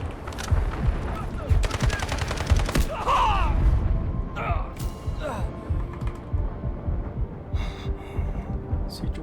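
Rapid bursts of automatic gunfire and heavy explosive thuds from an artillery barrage fill a Delta Force video game battle, dense and continuous with crackling impacts layered throughout.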